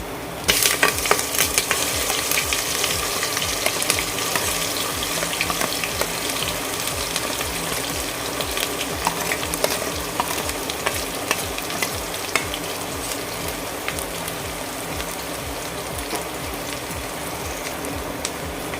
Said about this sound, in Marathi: पहिल्यांदा यामध्ये मी कढीपत्ता घालून घेते त्यानंतर हे वाटण घालून घेते